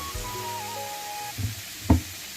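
Quiet sizzling and frying hiss as a little water is added to a hot frying pan for fish curry, with a couple of soft clunks near the end; no talking.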